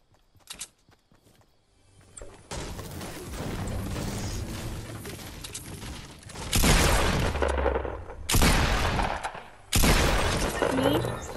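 Shotgun and gunfire blasts during a Fortnite squad match, several loud broadband bursts in the second half after a stretch of busy game noise, with talk from players around them.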